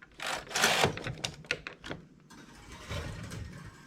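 A knitting machine carriage is run across the needle bed to knit one row of spiked stitches, giving a close, loud mechanical clatter and ratcheting that eases into a softer sliding rattle.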